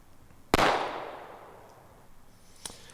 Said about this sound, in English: So I was shooting pretty decent here.